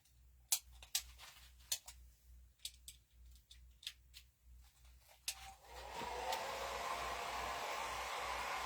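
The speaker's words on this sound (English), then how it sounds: "So I'm just going to use my Cool Shot to kind of dry this off." A few sharp clicks and snips are followed by a hair dryer on its cool shot setting drying hair. It switches on and blows a steady, close whoosh to the end, with no talking.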